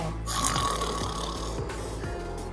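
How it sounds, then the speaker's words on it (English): Loud, close snoring of an ogre in a fairy tale for children, a few long rasping breaths with deep rumbling snorts, heard alone. "Then the ogre fell asleep and began to snore."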